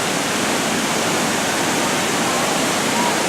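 Waterfall at Iguazu Falls in Argentina, a steady, loud broadband roar of falling water that fills the whole span without pause.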